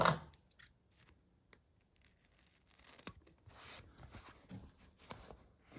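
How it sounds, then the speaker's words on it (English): Scissors trim the corners of a sewn fabric piece near a zipper tab, making quiet, close snips and rustles, a few isolated cuts and then a quicker run of clips toward the end, with no talking. "Let's go ahead and trim off the corners again."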